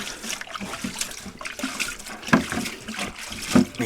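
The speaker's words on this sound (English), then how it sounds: "So there's the IPA, and I'm just gonna rinse it off in here." A resin 3D print from an Anycubic M7 Max is swished and rinsed in isopropyl alcohol, giving close, continuous liquid sloshing and trickling with a few sharper splashes.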